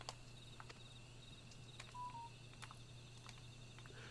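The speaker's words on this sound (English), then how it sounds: "that's my damn phone being noisy at me" A phone gives off a short, faint electronic tone over quiet background noise, with a few soft clicks around it.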